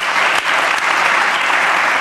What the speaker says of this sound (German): Das ist wirklich der Beifall.